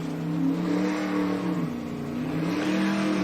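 A 1947 Chevy pickup truck drag racing down the strip at a Sick Summer 2024 event, its engine roaring loud and close, holding a steady pitch before it dips and climbs again.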